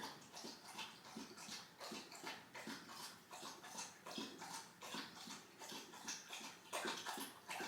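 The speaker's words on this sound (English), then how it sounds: "Oh, you're gonna drink your water." A dog laps water from its bowl indoors, a quick, steady run of wet slurping splashes close to the listener, repeating in even bursts for several seconds with no one talking.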